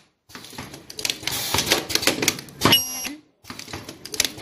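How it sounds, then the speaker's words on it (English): A nylon zipper ultrasonic U-shape top stop fixing machine runs in a factory, giving rapid clattering mechanical bursts and a sharp high-pitched ultrasonic squeal near the middle, with brief pauses between cycles. "Now let me operate this machine for you."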